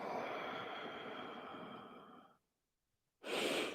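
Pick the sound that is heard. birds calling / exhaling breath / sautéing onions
exhaling breath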